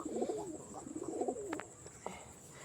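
Pigeons coo in a loft at night while being fed, with repeated rolling coos close by, a couple of short sharper sounds partway through and a faint steady high whine behind.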